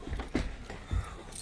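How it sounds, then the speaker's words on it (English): Metal trailer locks being pulled out and handled, bright jangling clinks and light knocks in short bursts, close by with a faint vehicle rumble beneath. "I gotta get my locks out of here"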